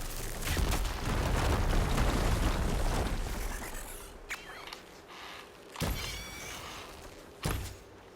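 A loud, rumbling explosion in the Horizon Forbidden West video game fills the first few seconds, then fades into quieter game ambience with a couple of sharp thuds.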